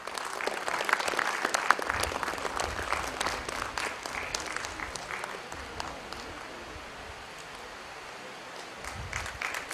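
An audience at a career counselling session for students claps in a sustained round of applause, dense and moderately loud, slowly thinning toward the end.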